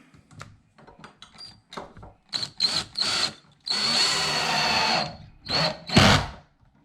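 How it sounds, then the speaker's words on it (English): A cordless drill whirs in short bursts, then one longer sustained run driving a screw into a door slab, followed by two more quick pulses, close and clear. "Get my drill here just to make it a little bit easier."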